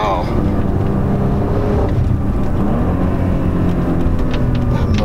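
A 2015 Porsche Macan Turbo engine runs steadily while driving on a canyon road, a loud continuous drone mixed with wind and road noise, with someone talking over it.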